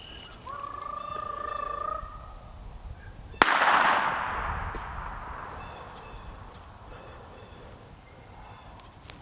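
A single sharp gunshot rings out during gun dog bird training, loud and sudden, its report decaying over several seconds, with birds calling faintly before and after.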